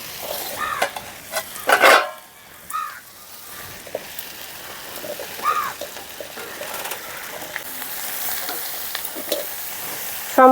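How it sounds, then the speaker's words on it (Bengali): Ridge gourd frying in a pan with a fish head makes a close, busy sizzle, broken up by repeated scraping and clattering stirs of a utensil, with no voices. "তো একটু নাড়াচাড়া করে কমে যাবে ঢাকা দিলে।"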